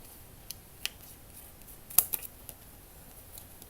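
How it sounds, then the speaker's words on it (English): Scissors cut a piece of material for a blue-bedroom model build, giving a few faint, sharp snips spaced irregularly in an otherwise quiet room. "Then I am going to cut one more out of that so that we got two of those."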